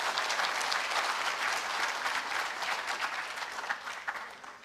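A crowd gives a sustained round of applause for John at a university entrepreneurial fair. The dense, even clapping holds steady throughout, slightly distant and fairly quiet, and gradually thins toward the end.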